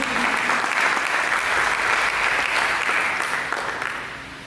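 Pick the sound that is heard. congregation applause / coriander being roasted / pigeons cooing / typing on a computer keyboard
congregation applause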